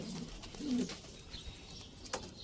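Homing pigeons give a soft, low coo once, close by but faint, over a steady background hum and a few light bird sounds.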